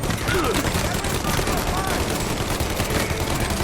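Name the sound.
gunfire in the video game Mafia: Definitive Edition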